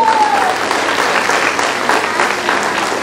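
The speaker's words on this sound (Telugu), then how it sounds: "మా హస్బెండ్కి కూడా ఒక్కసారి క్లాప్స్ కొట్టండి" A crowd at a women's empowerment meeting in Hanumakonda, Warangal, claps in thanks. The applause is dense, loud and sustained for the whole three seconds.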